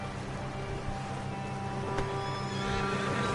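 Horses in Red Dead Redemption 2 neigh and whinny amid the clip-clop of hooves, the calls sounding over a steady outdoor game ambience, with no talk.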